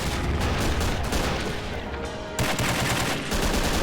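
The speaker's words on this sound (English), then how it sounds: "Exchanging fire there, look." Soldiers trade dense gunfire in the war game Men of War: Assault Squad, with rapid overlapping bursts and machine-gun rattle, loud and close throughout, with no voices.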